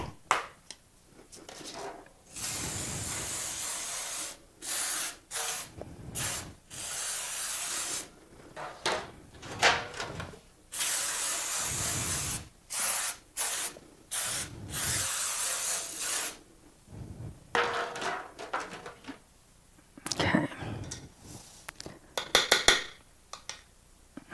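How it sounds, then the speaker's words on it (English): Repeated short hissing bursts of Baker's Joy aerosol baking spray onto pans, close by, with pauses between sprays and occasional light clatter of pans. "I'm going to use this Baker's Joy spray and spray the pans and the sides"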